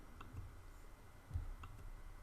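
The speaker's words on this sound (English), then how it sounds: "now I'll click on the eyedropper" A computer mouse clicks a few times, faint and close, over a low steady background hum.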